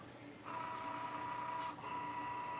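A vinyl cutting machine whirs steadily as it feeds material under its rollers, a constant mechanical hum with a brief dip in the middle, close and alone.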